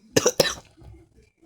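A short burst of two or three quick coughs, close and fairly loud, followed by a faint breathy tail and near silence.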